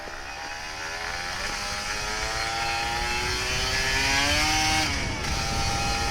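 An older Kawasaki Ninja RR 150 motorcycle engine revs up steadily, its pitch climbing in one long pull over several seconds before dipping briefly and settling high, close by, with no talking.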